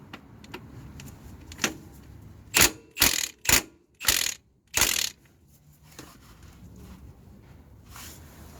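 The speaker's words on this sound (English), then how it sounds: "Now that bolt has almost stopped." Ratchet of a torque wrench tightening bolts on a Rover K-Series engine, five loud clicking pulls in quick succession amid quieter mechanical clicks, with no talk.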